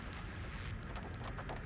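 Rain pattering against glass in the video game Alan Wake 2, a dense steady hiss and patter with low rumbling underneath, continuous throughout.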